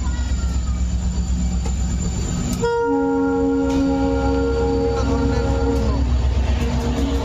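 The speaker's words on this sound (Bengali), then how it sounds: "পণ্য নিয়ে বাংলাদেশে প্রবেশ করছে ট্রেনটি।" An Indian freight train carrying rails rolls across the border into Bangladesh, a loud continuous rumble of wagons with a long sustained horn-like squeal in the middle, close and steady throughout.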